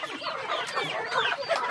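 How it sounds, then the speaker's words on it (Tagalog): Rhode Island Red chickens clucking steadily on a farm, a close, continuous flock chatter of overlapping clucks and short calls with no talking. "palibreng pamanok ay Trio Rhode Island Red Ready to Lay"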